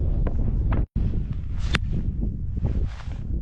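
Strong winter wind buffets the microphone in a Xinjiang desert near a small camper van, a loud continuous roar of gusts with a brief dropout and a few scuffing sounds.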